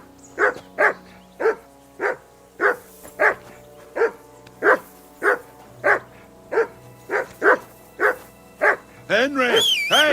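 A dog barks repeatedly in the medieval farming game Peasant Simulator, about fourteen evenly spaced loud, close barks in a steady rhythm, with a voice starting at the end.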